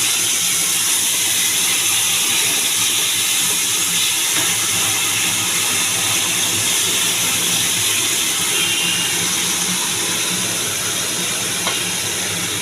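Steady hissing sizzle after a splash of water hits a hot pan of cumin-fried okra with turmeric and salt, continuous and fairly loud throughout with no talk.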